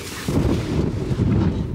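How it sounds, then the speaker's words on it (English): Heavy wind outside a Tesla Model Y at a campsite, a sudden onset of low, roaring microphone buffeting that holds steady with slight surges, no voices. "Oh my gosh, it's so windy outside."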